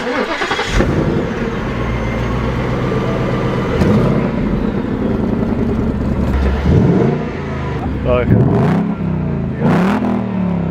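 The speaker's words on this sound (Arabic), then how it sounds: "انا في حاجه بغيرها في العربيه بتخلي عربيتي صوتها وحش" A modified car engine idles and revs loudly up close, a continuous throaty rumble that rises and falls with several sharp throttle blips toward the end, with no voices.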